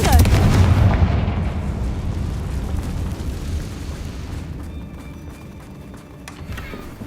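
A Confringo blasting spell fires off in Hogwarts Legacy, a loud booming burst at the start that rolls into a fading rumble.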